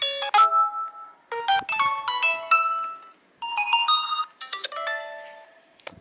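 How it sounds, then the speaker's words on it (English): Messenger notification chimes from a Lenovo Tab3 7 Essential tablet speaker, several bright bell-like tone bursts with brief pauses between, clear and close with no talking. "As you can see, this is a messenger sound."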